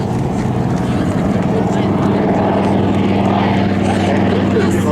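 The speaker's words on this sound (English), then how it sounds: "designed the company's first torpedo bomber, the heaviest single-engine aircraft in World War II" A TBM Avenger, the heavy single-engine World War II torpedo bomber, flies at an Air National Guard airshow, its propeller engine making a steady loud drone throughout while a voice talks over it.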